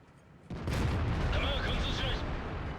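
A heavy tank cannon shot booms out with a sudden blast, followed by a rumbling roar and ringing tail in World of Tanks combat, loud and close.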